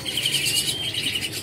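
Birds in a pet bird shop holding doves and other cage birds, a dense, continuous wash of high chirping and twittering from many birds at once, fairly close.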